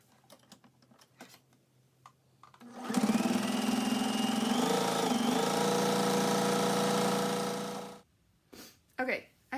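A sewing machine stitches a fabric strap for a four-ply face mask in one steady, close run of about five seconds, with quiet handling noises before and after.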